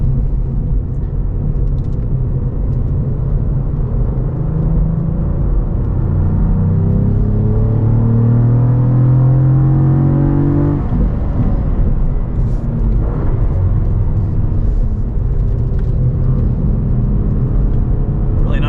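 A 2023 Cadillac CT4-V Blackwing with a manual gearbox drones loudly on track, its engine note rising and falling through shifts with auto rev-matching blips, a steady close-up cabin rumble throughout.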